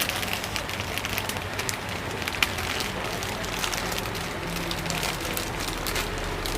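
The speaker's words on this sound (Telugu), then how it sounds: "బయట అయితే వర్షం వస్తుంది" Rain falls steadily outside, a constant broad hiss with scattered patter that continues evenly throughout at moderate volume.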